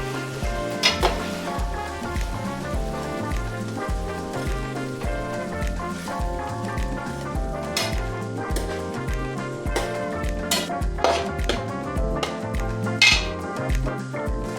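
Chicken curry with yogurt and garam masala stirred in a pan, with a steady sizzle under a backdrop of music and occasional sharp clinks of a spoon against the pan.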